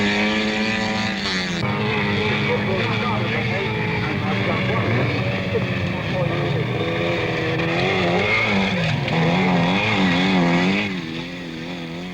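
1970s autocross racing cars roar on a dirt course, engines revving and sweeping up and down in pitch as they accelerate, loud and close, with a commentator's voice over the noise.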